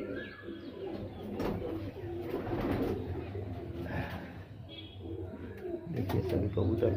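Several Andhra and Malwai pigeons coo in low, rumbling, overlapping calls close by in a loft, with soft rustling and brief chirps, continuing steadily throughout.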